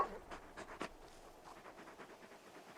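A big dog in Final Fantasy XVI pants softly in quick, breathy bursts, a louder huff near the start, then continuing faint rhythmic panting at close range.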